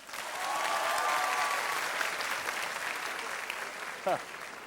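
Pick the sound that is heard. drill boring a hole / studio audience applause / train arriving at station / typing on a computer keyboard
studio audience applause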